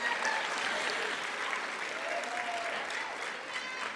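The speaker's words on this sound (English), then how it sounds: "Wow, that's applause worthy." A keynote audience breaks into sustained applause, a dense, steady wash of clapping filling the room at an even level throughout, with faint voices mixed in.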